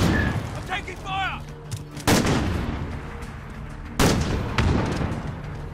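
Gunfire in a first-person shooter video game: two sharp, loud broadband shots about two seconds apart, with scattered distant shooting and battlefield noise between them, no speech.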